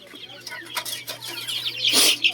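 A chicken clucks nearby in short, irregular bursts, ending with a louder squawk, over a faint steady hum.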